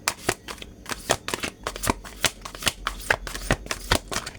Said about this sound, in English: So if I shuffle one more time and there's no cards coming out, then I accept it as such.